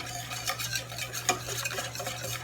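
Yeast being stirred into a thick blender bread batter, a steady run of soft scraping and wet swishing strokes, close and moderately loud, with a low constant hum underneath and no voices.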